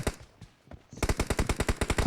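Gunfire in a team hunting shooter video game: a quiet moment, then a rapid, evenly spaced volley of about a dozen loud shots.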